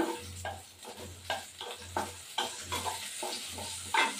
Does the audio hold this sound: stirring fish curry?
yes